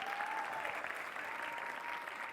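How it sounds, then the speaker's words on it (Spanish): Steady applause from a church congregation on Easter Sunday fills the space evenly, a dense continuous wash of clapping with no talk over it. "tienes que darle un buen aplauso este domingo de resurrección al Rey de Reyes"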